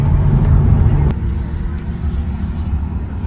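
A Tesla electric car rolls through slow traffic while regenerative braking is applied, bringing a loud, steady road and cabin rumble that drops in level partway through, with passing-vehicle noise around it.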